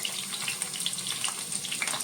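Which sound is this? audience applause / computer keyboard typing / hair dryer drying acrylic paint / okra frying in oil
okra frying in oil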